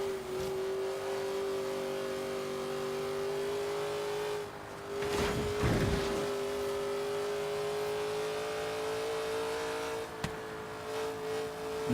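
An all-wheel-drive car drives and revs in Forza Horizon 3, a steady engine whine that surges into a hard rev with gear-change bursts midway, close and continuous.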